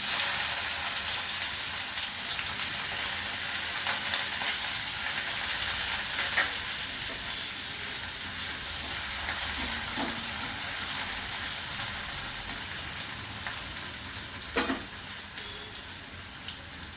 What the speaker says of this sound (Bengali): তেল গরম হয়ে গেছে, প্রথমেই আমি পেঁয়াজ কুচি দিচ্ছি।